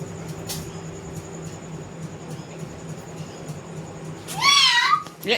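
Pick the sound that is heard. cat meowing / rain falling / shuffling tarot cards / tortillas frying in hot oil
cat meowing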